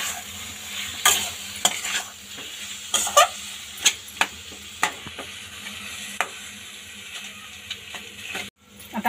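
Mashed potatoes being stirred into a cooking mixture in a pan for a potato bhaji, with intermittent scraping and clacking of a utensil against the pan over a faint sizzle, no talking.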